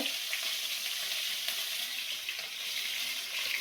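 Spices, green chilies and turmeric sputter loudly in hot frying oil for a Bengali home-style crab curry, a continuous close crackling hiss with no voices.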